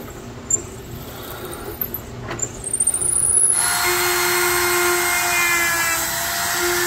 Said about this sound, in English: Let's drill our pilot holes.